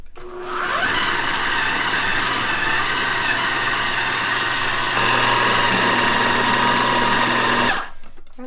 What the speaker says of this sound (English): let's put the lid on and grind this up.